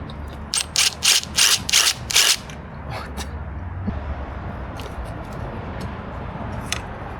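Long screws are backed out of a hotel pool equipment box, a rapid run of about six rasping ratchet-like bursts up close, then quieter scattered clicks and handling noises.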